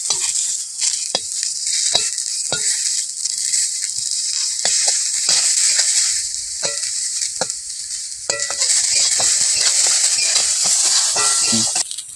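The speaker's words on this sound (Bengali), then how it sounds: "এটা এবার জল থেকে একটু চিপে নিয়ে হালকা ভেজে নেব" Peanuts and raisins fry lightly in a pan with a continuous soft sizzle, punctuated by sharp scraping clicks of a spatula stirring against the metal at an irregular rhythm, close and fairly loud.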